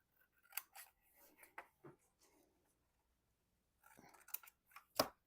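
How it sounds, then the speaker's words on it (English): Scissors snipping the corners of junk journal paper, a few close quiet cuts and rustles, then a pause and more sharp snips ending in one crisp cut, no talk. "give that a little snip"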